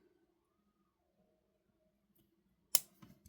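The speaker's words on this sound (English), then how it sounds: "we're going to snip off this excess right here" A sharp single snip of cutters trimming excess beading wire on a seahorse bead necklace, one crisp close click followed by a couple of faint small clicks in a quiet room.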